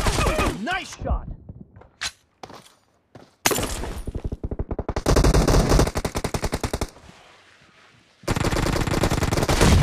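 Automatic gunfire in the mobile battle-royale game PUBG, heard as loud rapid bursts of rattling shots separated by short pauses and a few sharp single cracks, with in-game sound effects between them.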